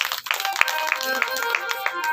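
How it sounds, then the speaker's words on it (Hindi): Devotees at a Hindu Shiv Mahapuran scripture recitation clap in an even rhythmic beat, roughly three claps per second, close and moderately loud over a faint background hum. "आपके लिए भी जोरदार तालियां।"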